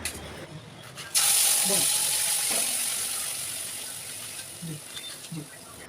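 A burst of loud sizzling as plantain peel paste hits hot mustard oil, then a steady frying hiss that slowly settles, with faint scraping underneath.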